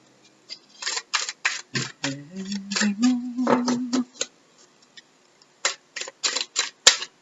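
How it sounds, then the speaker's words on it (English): Tarot cards are shuffled in quick bursts of crisp riffling and tapping clicks, close and moderately loud, separated by short pauses. "Sometimes on the last shuffle, 3 will fly out."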